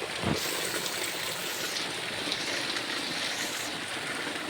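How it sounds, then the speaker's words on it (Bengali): Heavy rain pours down in a dense, even hiss that holds steady from start to finish. No voices are heard. "প্রচন্ড বৃষ্টি বৃষ্টি শুরু হয়ে গেছে"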